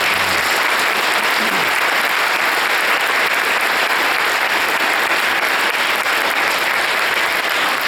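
Audience applause for the speakers at a middle school veterans program, a steady, dense wash of many hands clapping throughout, loud and close, with no talking over it.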